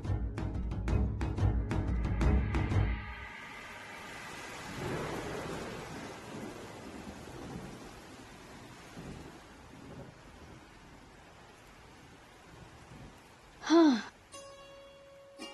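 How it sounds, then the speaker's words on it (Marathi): A dramatic storm scene opens with a few seconds of loud rolling thunder and pounding heavy rain, then settles into a softer, steady downpour, with a sharp gasp-like burst near the end. "आगीकोट पाऊस."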